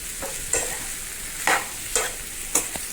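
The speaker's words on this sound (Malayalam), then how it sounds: "നന്നായിട്ടൊന്ന് മിക്സ് ചെയ്ത് എടുത്താൽ മതിയാവും." A spoon stirring prawn curry in a pan makes soft scraping strokes at a steady pace over a light sizzle, close and fairly quiet.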